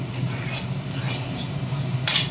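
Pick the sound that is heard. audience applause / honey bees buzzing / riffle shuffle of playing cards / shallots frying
shallots frying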